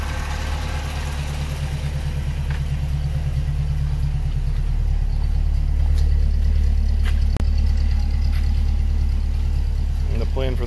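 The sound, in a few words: old project car engine idling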